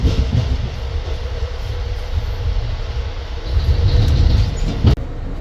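Aboard an Amtrak Borealis passenger train, a loud, steady rumble of the moving car fills the space, with rolling wheel noise swelling midway and a sharp knock near the end.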